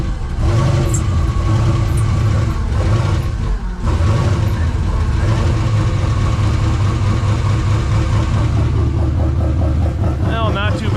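A turbocharged junkyard LS 5.3 V8 in a mega truck running on E85 idles loud and close with a steady low rumble, following a brief dip at the start.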